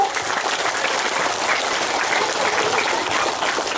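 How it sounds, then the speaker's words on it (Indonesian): An audience at a house inauguration and thanksgiving gathering for Youth Pledge Day claps steadily, a dense, even wash of many hands that stays loud throughout. "Boleh tepuk tangan Bapak Ibu."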